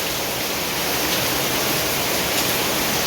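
Heavy rain pours down steadily in a dense, constant wash of noise as water runs onto a balcony, loud and close with no break.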